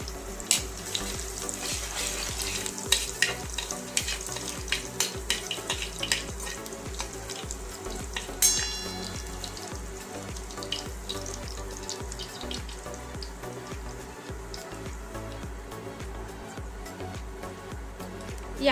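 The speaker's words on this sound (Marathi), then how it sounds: "जिरे मोहरी कडल्याच्या नंतर आपण यामध्ये लसूणची पेस्ट टाकू" Garlic paste frying in oil with cumin and mustard seeds crackles steadily, with sharp spattering pops early on and a constant close hiss throughout.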